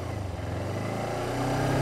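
A motorcycle engine revs up steadily, its low growl rising in pitch and growing louder, heard close by.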